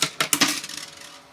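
Coins clatter into a low-value coin pusher machine, several quick metallic impacts close together followed by a shimmering jingle as they settle and slide, close and fairly loud with no talking.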